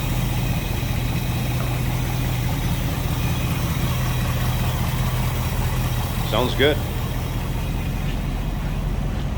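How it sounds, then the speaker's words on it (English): A 1955 Ford Fairlane Crown Victoria fitted with an Edelbrock carburetor idles steadily with a low, deep, throaty exhaust note, constant and close, while someone briefly speaks over it. "just a nice little deep throaty exhaust note"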